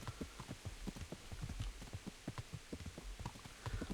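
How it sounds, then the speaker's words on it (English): Rhythmic hoofbeats of a galloping horse in the video game Kingdom Come: Deliverance, quick repeated thuds pounding along steadily with a faint hiss of background noise. "thankfully our horse can still sprint"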